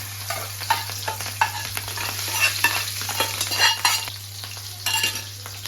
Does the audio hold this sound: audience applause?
no